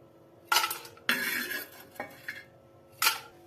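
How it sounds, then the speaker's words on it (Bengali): Metal utensils scrape and clink against a pan while fried dried fish is lifted out, coming in several short, fairly quiet bursts separated by pauses. "শুটকিগুলো ভাজা হয়েছে, এখন শুটকিগুলো তুলে নিন।"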